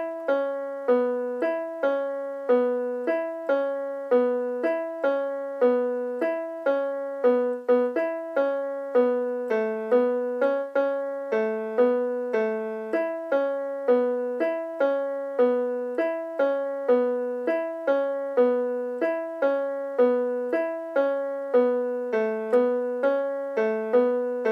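Keyboard playing the repeating chorus line of a song, a single-note melody looped many times at a steady moderate pace, clean and close with no voices.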